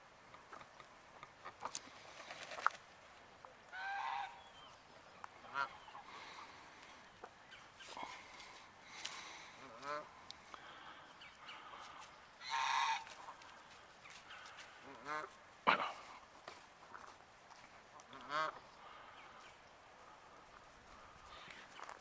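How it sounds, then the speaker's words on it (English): Ducks and geese call outdoors in scattered honks and quacks, faint and fairly distant, spread over a long quiet stretch with low background noise and occasional footsteps. "Let's go look at the ducks."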